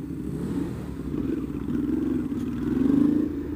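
A Ducati Hyperstrada motorcycle accelerates on the road, its mid-pitched engine drone rising in steady surges with wind noise, loud and close throughout.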